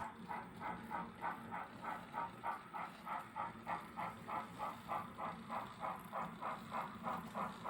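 An HO scale model train runs along a layout, giving a faint, regular clicking rhythm of wheels over rail joints, repeating steadily at about three beats per second over a soft running hum.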